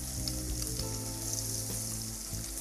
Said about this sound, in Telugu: ఆనియన్స్ లైట్ బ్రౌన్ కలర్ అయ్యేంత వరకు ఫ్రై చేయాలి.